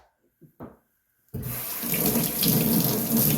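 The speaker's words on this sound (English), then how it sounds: "Rinse my hands, and let's start a lather." After a short near-silence, a tap suddenly opens and water gushes steadily and loudly into a sink as hands are rinsed under the running stream.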